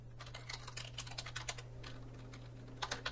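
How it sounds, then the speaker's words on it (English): Fingers typing on a computer keyboard while entering a command for a MicroPython program, soft irregular key clicks close by over a steady low electrical hum, with no talking. "I type in hello.py."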